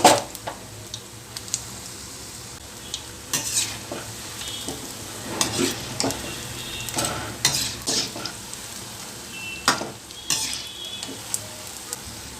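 Mint and curry leaf bonda fry in oil over a low flame, giving a steady soft sizzle broken by scattered louder bubbling bursts and occasional scraping of a stirring utensil, with no talk.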